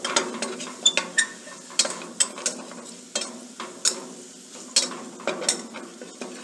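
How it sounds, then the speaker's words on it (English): Flour is stirred in a pan while it browns for a brown roux, making repeated scraping and stirring strokes with a soft sizzle beneath. The strokes come in an irregular rhythm, close and moderately quiet. "Brown this flour to make a brown roux."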